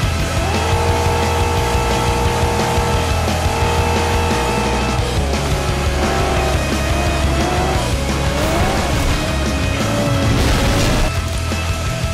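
Cars race in the Gas Station Derby of the video game Flat Out 2, with loud, continuous engine roars that rise and fall in pitch, plus occasional tire squeals and crashes.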